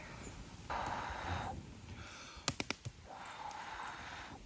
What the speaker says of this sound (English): what we're looking for is for this fire to ignite all the logs and then die down